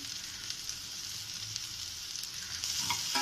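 Potato masala for poori being stirred in a pan after salt goes in: a soft, steady sizzle with light scraping strokes, and a slightly louder stir near the end.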